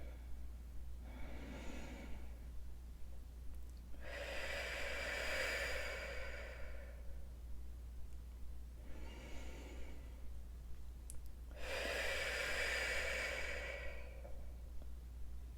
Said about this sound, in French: on baisse la tête, et on respire et on expire